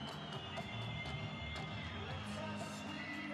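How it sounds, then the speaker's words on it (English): A Spanish crowd cheers and shouts at an ice hockey game in Granada, a fairly faint, busy roar of voices and whoops with scattered sharp sounds from the rink. "As you see, good Spanish crowd, excited to see their hometown team"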